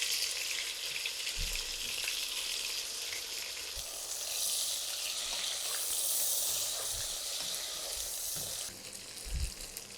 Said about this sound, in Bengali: চার 5 মিনিট আমি এই চিকেনটাকে ভেজে নিয়েছি